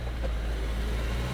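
A car picks up speed during a driving lesson, a low steady engine drone heard from inside the cabin for a brief moment.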